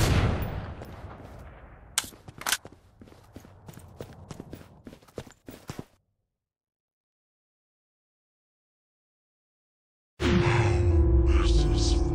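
Gun firing in the video game Killing Floor 2: a run of sharp, loud shots at uneven intervals over about six seconds, then silence, then a different steady, dense game noise.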